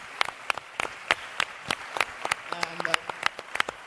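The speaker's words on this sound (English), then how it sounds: "These are very well deserved applause." Audience at an academic conference on human and artificial intelligence clapping for an organiser, scattered sharp claps in a loose steady rhythm at moderate level, with a short spoken voice briefly mixed in partway through.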